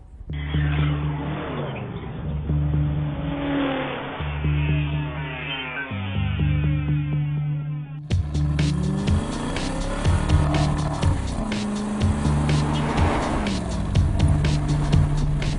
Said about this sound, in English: Let's drive the 2012 Aston Martin Vantage Roadster